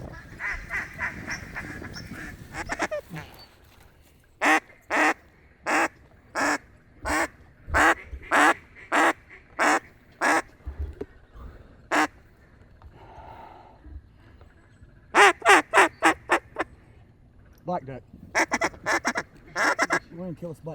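Ducks call and quack during an opening-day duck hunt, with loud bursts of evenly spaced honking calls in two main runs, broken by quieter stretches and murmured talk from hunters nearby.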